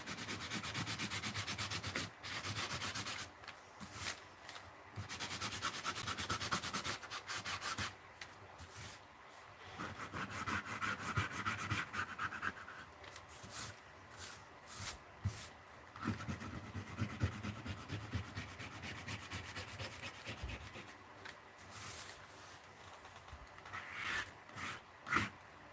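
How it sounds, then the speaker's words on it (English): Melted crayon wax is scraped off a surface in repeated rough rubbing strokes, faint and close, with irregular pauses between passes and no voices. "When I'm scraping it, I'm taking off that wax."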